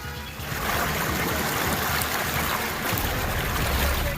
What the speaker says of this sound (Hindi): भारी बारिश की वजह से गोदावरी नदी उफान पर है।